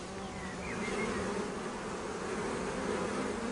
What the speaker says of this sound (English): Bees also provide the wax that is necessary for making candles